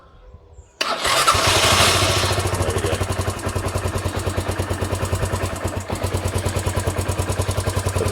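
A Sinnis SC125 motorcycle, a 125cc single with charging and electrical faults, catches and fires up with a sudden burst. It then settles into a loud, close, evenly pulsing idle, and a brief spoken remark comes at the start.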